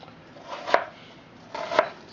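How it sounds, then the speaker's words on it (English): Two crisp knife chops through onions on a cutting board, about a second apart, close and fairly quiet. "So we're chopping away."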